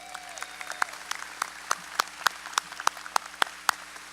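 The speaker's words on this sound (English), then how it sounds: "That alone deserves a round of applause." Sparse, scattered clapping from a small crowd at a convention center grand opening ceremony in Anaheim, individual hand claps popping out one by one over quiet room tone.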